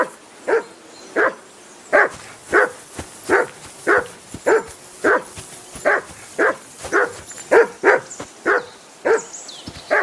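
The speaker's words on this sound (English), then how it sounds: "Jesus, Henry, that barking's driving me nuts! Can you get your dog to shut its beak" A dog in the video game Kingdom Come: Deliverance 2 barks repeatedly at a steady rhythm, about fifteen sharp barks close by, with nothing else competing.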